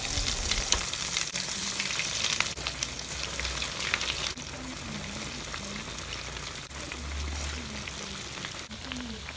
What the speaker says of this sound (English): if it's hot, it's time for frying